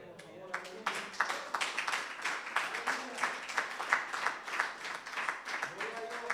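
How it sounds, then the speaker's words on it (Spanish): A church congregation claps during a sermon, a steady patter of many hands fairly close and moderately loud, with sharper rhythmic accents building over several seconds. "Aplauda al Cordero, por favor."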